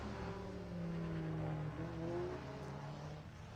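A rally car's engine rumbles and powers past on a Harlech forest stage, a low, steady drone with a gradually shifting pitch, heard from a moderate distance and fading slightly near the end.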